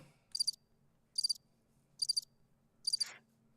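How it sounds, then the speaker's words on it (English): Four evenly spaced cricket chirps from a sound effect, crisp and high-pitched, ring out over near silence with a faint low hum. "That's what I heard. Crickets."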